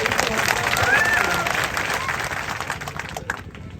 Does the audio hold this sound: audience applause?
yes